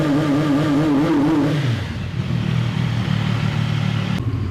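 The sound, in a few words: CF Moto 675 SR-R motorcycle engine revving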